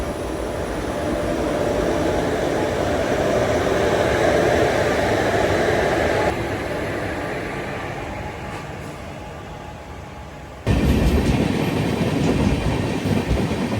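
Passenger train 56308, Thiruvananthapuram Central to Nagercoil, runs with a loud, continuous rumble and rattle of wheels and carriages. The roar eases slightly midway, then jumps abruptly louder near the end.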